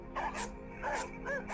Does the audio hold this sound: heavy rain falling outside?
no